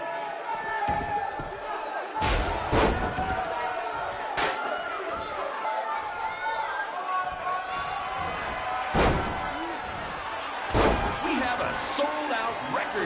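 WWE 2K19 wrestling game arena crowd, a continuous murmuring roar broken by loud slams and thuds of in-ring action, with commentary talk running over it.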